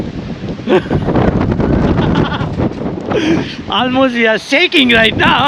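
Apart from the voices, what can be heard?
strong wind blowing on the microphone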